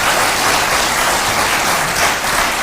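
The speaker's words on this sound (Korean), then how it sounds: "박수 한번 쳐주세요." A crowd at a political rally bursts into sustained, dense applause, loud and even throughout with no voices rising above it.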